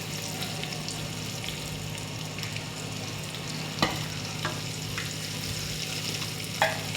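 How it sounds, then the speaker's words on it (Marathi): Food frying in oil in a pan while making alu vadi, a steady close sizzle with a couple of sharp utensil clinks against the pan, no talking. "हे बघा असं मस्त तळून घेऊया हे लाल तळूया थोडे थोडा वेळ"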